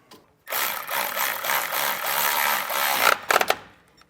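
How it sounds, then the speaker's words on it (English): A power tool whirs steadily for about two and a half seconds while tightening a bolt on an air helper spring on a 2016 Chevrolet, then ends in a few short bursts before stopping. "Take our bolt and tighten it back down."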